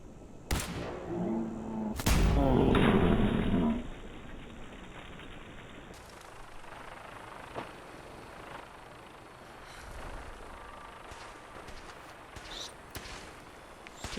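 Gunfire in the video game Fallout 4, a few sharp loud shots near the start followed by a short roaring burst, then a quieter stretch of faint scattered game noise.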